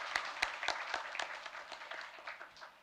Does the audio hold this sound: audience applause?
yes